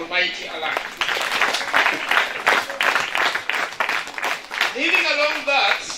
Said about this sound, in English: Can we please give a thunderous hand clap to the Almighty Allah?